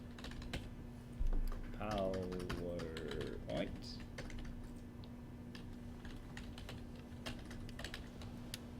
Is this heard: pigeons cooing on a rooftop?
no